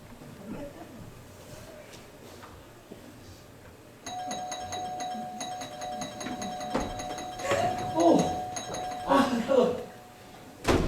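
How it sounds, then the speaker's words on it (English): A doorbell at a house door gives a long, repeated electronic chime in a staged comedy play, ringing for several seconds amid murmuring and voices that rise over it toward the end. "I'm gonna ring the doorbell."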